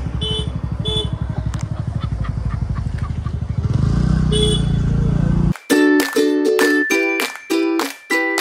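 A motorcycle engine putters steadily and fairly close for about five seconds on a ride near Mukteshwar, then gives way to loud, bright ringing tones in repeated bursts.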